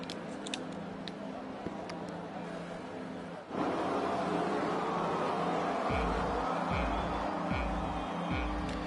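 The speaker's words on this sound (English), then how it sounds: "as the cars rev their engines" Formula 2 race cars on the Abu Dhabi grid in a PS4 racing game, engines idling and revving at the start, a steady broad engine drone with a jump in intensity midway and repeated low throttle blips toward the end.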